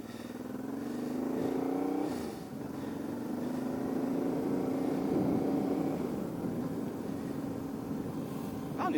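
A 1994 Honda 600 Transalp motorcycle engine under way, a steady droning hum that rises in pitch, dips at a gear change, then climbs and holds again, heard close with constant wind rush.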